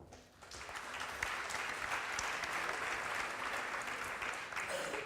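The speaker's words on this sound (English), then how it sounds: "Applause for you." Steady applause from a panel-discussion audience for a bank works council deputy chair, dense and continuous from start to finish at moderate distance, with no voices standing out.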